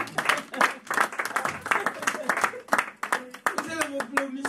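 A church congregation claps and cheers in praise during a sermon service, loud rhythmic clapping mixed with shouting voices, then a voice rises near the end.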